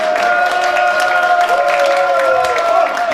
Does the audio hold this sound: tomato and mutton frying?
no